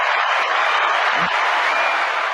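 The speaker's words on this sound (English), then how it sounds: "Give yourselves a round of applause there." Steady, dense applause from an audience at a live Q&A session, continuous hand clapping at an even loudness throughout with no break.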